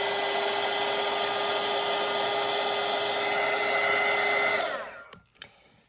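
Hair dryer blowing on a watercolor painting: a loud, steady airy roar with a constant hum runs close by for several seconds, then cuts off, leaving a few soft clicks and handling sounds, with no talk.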